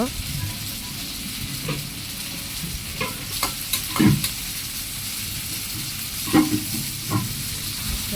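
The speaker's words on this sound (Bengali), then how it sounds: "কড়াইতে দিলাম তেল, দিয়ে দিব পেঁয়াজটা একটু ভেজে নিব" Onion frying in hot oil in a wok, a steady broadband sizzle with occasional stirring scrapes and clinks, close and moderately loud, no talk over it.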